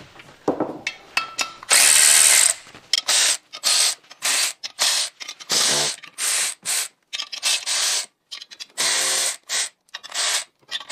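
Fasteners on a clutch pressure plate being loosened during a Gen2 GR86/BRZ transmission replacement, heard as repeated short bursts of a buzzing power tool separated by brief gaps, close and loud, with no speech.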